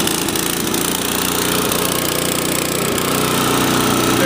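An MTD Deluxe Gold Series snowblower engine runs steadily close by, a loud, continuous buzzing drone with no pauses and no talking over it.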